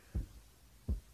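A heartbeat sound effect in a dating-sim video game thumps twice, deep muffled pulses close together and evenly spaced, low and heavy with nothing else over them.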